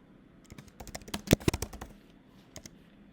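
Keys on a computer keyboard are typed in a short burst of quiet clicks, clustered in the middle with a couple of louder strikes, then a few scattered taps near the end.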